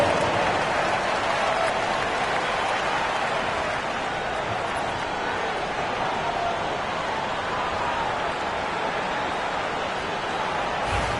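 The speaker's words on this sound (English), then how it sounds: "Give them a round of applause." Crowd applause at an NBL basketball game, a broad, continuous wash of clapping that stays level and fairly loud throughout, hissing like rain with no distinct individual claps standing out.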